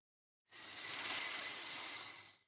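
A snake's hiss played for a children's English class: a steady, breathy hiss that starts abruptly after a short silence, holds evenly at moderate volume for nearly two seconds, then fades.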